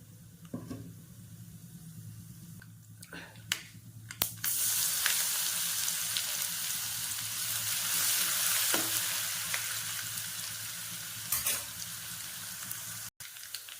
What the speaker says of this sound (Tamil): இப்போ இந்த கடுகு கருவேப்பிலை பொறிஞ்சதும் இதில் வந்து திருவி வச்சிருக்க தட்டி வச்சிருக்க பூண்டை வந்து சேர்த்துக்கிறேன்